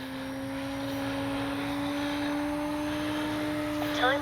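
An FMS Fox 3M RC glider's electric motor runs above half throttle with a steady, even droning whine, held constant and fairly loud throughout.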